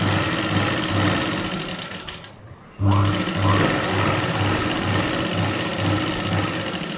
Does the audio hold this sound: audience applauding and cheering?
no